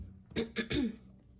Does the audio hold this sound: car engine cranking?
no